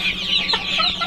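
Cochin chickens on a poultry farm cluck close by in a short burst of several quick, throaty clucks with no talk over them.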